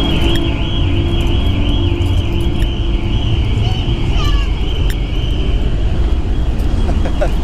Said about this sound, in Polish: nasz alarm wyje, ponieważ ten statek tak drży